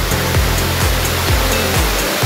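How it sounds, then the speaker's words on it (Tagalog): A mountain waterfall roars as a loud, steady, broadband rush of falling water, close by and continuous, with no voices over it. "Kaya puro falls, Noy. Puro falls yan."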